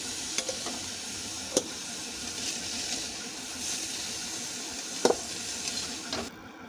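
Mushrooms frying in oil in a pan for a curry made without onion or garlic, giving a steady soft sizzle with a few brief stirring clatters, fairly quiet and close with no voices.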